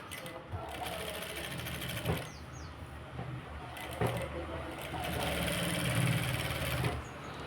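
A sewing machine stitches along a fabric edge with a steady mechanical whirr across several seconds, broken by brief clicks and pauses, while a voice talks faintly underneath.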